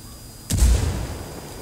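A grenade thrown in Ghost Recon Wildlands bursts once with a sharp crack and a deep low boom, then the rumble fades slowly.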